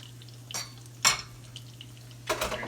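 An egg skillet with a little oil is set on the stove, giving three brief metallic clanks and scrapes of pan on burner against a low steady hum, no voices.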